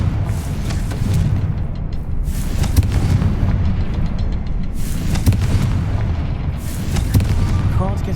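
Explosions from the Confringo spell in Hogwarts Legacy boom repeatedly over a dense, rumbling game soundscape, several heavy blasts rolling one after another, loud and close with steady low background noise.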